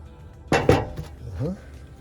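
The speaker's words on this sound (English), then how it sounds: "Let's just dump this right off into this pan." Small electronic components dumped into a metal pan, a brief close rattling clatter of two quick clanks, followed by a short bit of speech.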